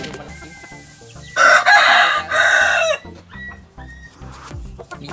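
Hens cluck close by while a rooster lets out two loud crows in a row, then clucking continues.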